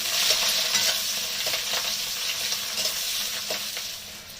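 Whole garlic cloves and chopped onion fry in hot oil with a steady bright sizzle, stirred now and then with soft scraping, close and alone.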